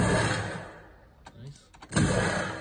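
Weapon shot sound effect from the Warframe video game: a loud, roaring synthetic blast that fades, a short stretch of sharp clicks, then a second heavy burst rising and slowly decaying, played alone.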